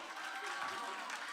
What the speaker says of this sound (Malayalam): എല്ലാവരും നിറഞ്ഞൊരു കൈയടി കൊടുക്കുമോ?